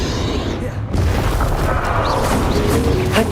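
In Hogwarts Legacy, the Bombarda blasting spell sets off a deep, rumbling explosion that rolls on with a heavy, sustained low roar and scattered crackles.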